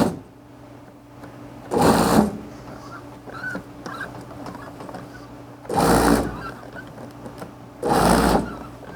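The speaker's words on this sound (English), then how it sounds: "I'm going to use the pulse button, and I'm going to pulse anywhere between 5 and 10 times and start to break up the connective tissue of the slices." A food processor pulses sliced pork toward a puree in three short, loud whirring bursts separated by pauses, close up in a quiet kitchen.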